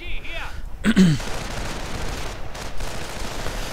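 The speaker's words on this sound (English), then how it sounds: "The machine gun placement getting slowly mortared to death." A video game battle with machine gun and mortar fire: a sharp burst of gunfire rings out early, then a dull rumble of fire continues while a voice talks over the action.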